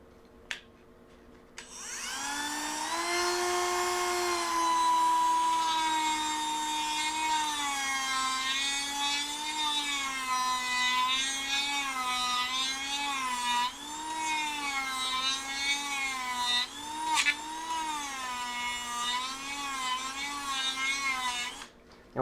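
Handheld Dremel rotary tool whines steadily as it carves and rounds the square edges of a piece of wood. The motor runs continuously and close, with a high pitch that wavers slightly as the bit meets the grain.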